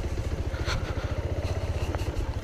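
Motorbike riding over a rocky, stone-strewn path toward Turturiya Dham temple in Chhattisgarh, its engine thumping in a fast, even pulse up close with occasional clatter and scraping.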